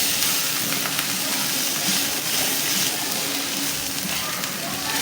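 Garlic and ginger sizzle steadily in a small amount of oil in a pan while vada pav is being made, a dense continuous hiss and crackle heard up close with no talking.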